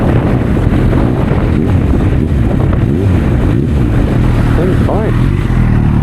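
A Honda CB1000R motorcycle engine, one with a fault of not starting when hot, idles steadily while warming up, a loud close low rumble held evenly throughout with no revving.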